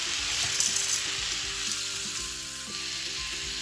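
Chicken pieces frying and sizzling in a pan as they are stirred, a steady close hiss with soft scraping and clinks of the spoon throughout, no talking.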